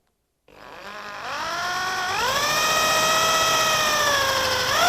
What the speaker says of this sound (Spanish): y taladramos de la misma forma.